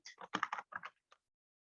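Short burst of typing on a computer keyboard, about seven quick close keystrokes in a loose cluster followed by one lone tap after a short pause, quiet and with no one speaking.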